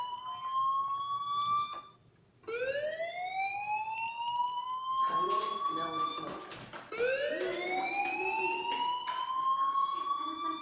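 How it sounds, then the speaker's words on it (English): A school fire alarm in the game Life is Strange wails in rising, siren-like sweeps that repeat after brief pauses, with faint background voices and movement mixed in. "do you hear that fire alarm?"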